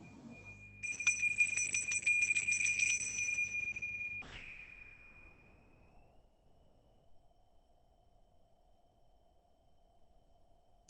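A single meditation bell is struck and rings out with a bright sustained tone for about four seconds, then is damped abruptly and fades into near silence.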